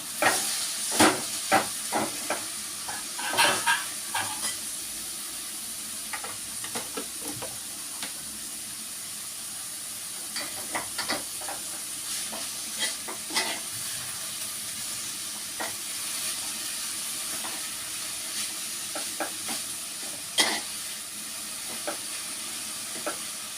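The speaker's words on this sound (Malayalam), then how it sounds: "ഇതൊന്ന് ഇളക്കിയും കൊടുക്കാം." Vegetables with turmeric sizzle and hiss in a pan for a thoran, a steady moderate frying hiss broken by repeated sharp scrapes and clacks of a spoon stirring, close and unaccompanied by talk.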